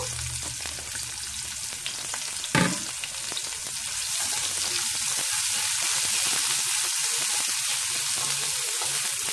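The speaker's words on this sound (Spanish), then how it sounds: "Ya que está caliente el aceite, voy a añadir las zanahoria y el apio." Carrots and celery fry in hot oil for a vegetarian lo mein, a steady broadband sizzle throughout that swells slightly louder partway, with one brief sharp clatter near the start and no voices.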